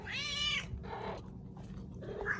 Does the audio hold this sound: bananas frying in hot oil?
no